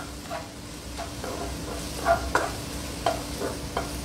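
Garlic, onion and ginger sauté in a pan on the stove, giving a steady soft sizzle that runs throughout, with occasional stirring scrapes and light clinks of a utensil rising above it.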